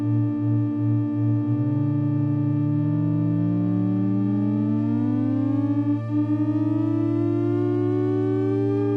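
A modular synthesizer oscillator in the Project XII build hums a low pulsing drone, then glides slowly upward in pitch like a factory siren, its bright harmonic tone sustained and loud with no voices.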